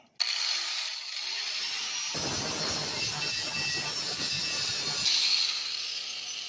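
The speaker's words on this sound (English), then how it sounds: "I'm just going to angle grind that and get it shiny so the weld will stick good" An angle grinder scours a broken steel hitch on a riding mower down to bright, shiny metal before welding. It gives a loud, steady, continuous grinding whine that starts almost at once and runs unbroken, with no talking.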